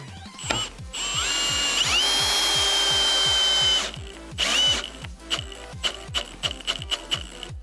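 A Milwaukee M18 FPD2 cordless hammer drill-driver whirs steadily while driving a screw in first gear at clutch setting 14, its pitch rising under load, then slows into a rapid ratcheting clatter of clutch clicks.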